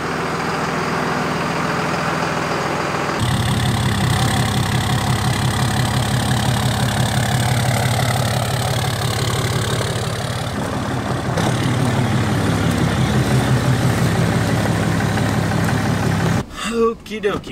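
An old truck's engine idles with a steady low diesel rumble and throb, loud and close, its tone shifting slightly partway through. It runs alone without speech until a brief burst of noise at the end.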